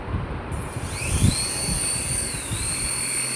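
A small RC toy helicopter, just switched on, spins up its rotor and motor into a high, thin whine that rises in pitch and holds steady close by, with light handling bumps underneath.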